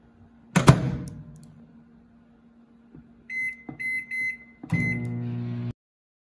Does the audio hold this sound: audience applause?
no